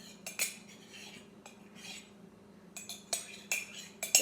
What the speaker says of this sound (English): Go ahead and scrape out the rest of my curds